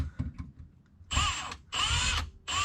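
A power drill drives into wood while restomodding a classic Ford F100 truck, three loud whining bursts of about half a second each with short pauses between them, preceded by a few faint clicks and knocks.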